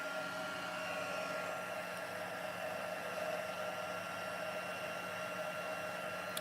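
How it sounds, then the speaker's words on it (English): A heat embossing tool blows hot air onto a handmade card, producing a steady, close whirring hiss like a hair dryer that runs unbroken throughout. "I'll bring my heat tool in again and we'll quickly emboss that."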